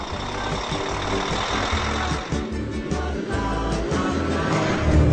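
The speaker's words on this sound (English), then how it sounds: "We're driving in the Volvo FH16 with 700 horsepower" A Volvo FH16 truck with 700 horsepower drives along rural Queensland roads, its engine giving a steady, heavy low drone from inside the cab. The sound is loud and continuous, with no talk.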